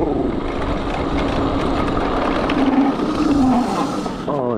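Segway Ninebot GoKart Pro in Corsa mode accelerates and drifts with a steady electric motor whir and rushing wind noise, a rising whine near the end, fairly loud throughout.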